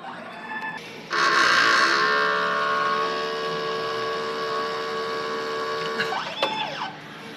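A printer runs a print head cleaning cycle, with a loud sustained mechanical whir and hum starting abruptly after a second and holding steady for several seconds, then shifting into a brief rising motor whine near the end.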